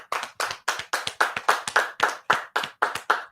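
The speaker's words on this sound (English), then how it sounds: "And we clap it up" Hands clapping at a religious law class, a steady run of about a dozen sharp, evenly spaced claps, close and loud, with no talking over them.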